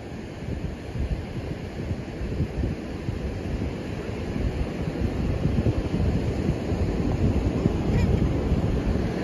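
Ocean surf at Oceanside beach washes in steadily, a broad, constant roar of breaking waves mixed with wind buffeting the microphone, building slightly louder toward the end.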